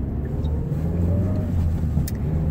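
Car idling and creeping along in heavy traffic, heard from inside the cabin as a steady low engine rumble and road hum, with a brief faint click partway through.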